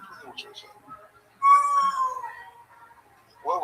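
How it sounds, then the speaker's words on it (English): A cat gives one clear, drawn-out meow that rises and then falls, close and loud, between quieter background sounds and brief voices. "That was a different cat for some reason"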